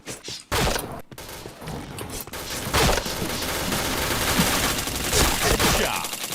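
Rapid bursts of gunfire from a video game shooter crackle almost continuously, with short gaps between volleys and heavy automatic fire building toward the end, loud and close.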